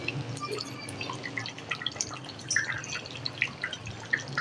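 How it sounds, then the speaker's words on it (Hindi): A glass of water poured into a pan of cooking mutton karahi, giving close dripping and splashing with bubbly crackles over a steady background hiss. "अब मैं यहाँ इसमें 1 गिलास पानी डाल दूंगी।"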